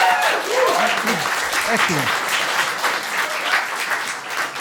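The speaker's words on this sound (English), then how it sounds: "I think we should give a round of applause for the beautiful music we've heard so far." Audience in a pub music session bursts into sustained hand-clapping after traditional music, the applause filling the room while a few voices speak briefly over it.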